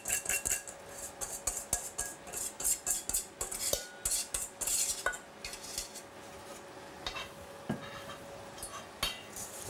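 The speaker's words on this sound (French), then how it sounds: "on va récupérer nos œufs et puis on va les mélanger tout simplement" Eggs are whisked in a bowl, the whisk clattering and ticking rapidly against the sides in quick irregular bursts, close and moderately loud with occasional louder clinks and no voices.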